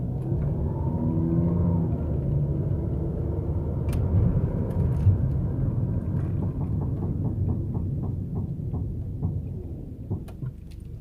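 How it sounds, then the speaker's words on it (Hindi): Rear brake on a Toyota Camry gives a steady, rhythmic ticking that repeats with wheel rotation, riding over a continuous low rumble of the moving car and road noise. "टिक टिक टिक करके ऐसे कुछ आवाज़ आ रही है।"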